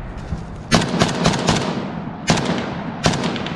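Gunfire in real combat as a Luhansk territorial defence brigade engages Russian forces: loud, sharp shots cracking in a rapid cluster, then two more separate bursts after a short pause, with no talk.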